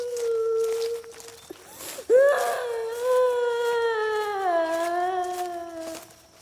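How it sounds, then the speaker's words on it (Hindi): A child's wailing cry in a Hindi horror story set in Sanjay Van forest, Delhi: a long sustained moaning tone, briefly broken, then rising again into a loud, close, quavering wail that slowly falls in pitch, with no talk over it. "तभी अचानक किसी बच्चे के रोने की आवाज शुरू हो गई।"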